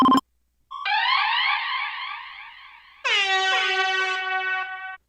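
Air horn alarm sound effect: a sharp click, then a loud blaring horn blast, a short pause and a second, brighter sustained blast, close and alone.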